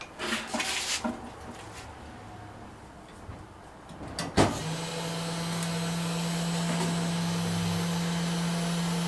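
A high-speed spindle fitted to a Grizzly G0705 mill starts with a sharp clunk after some quiet handling noises, then settles into a steady, fairly quiet whirring hum with a continuous whine that lasts to the end.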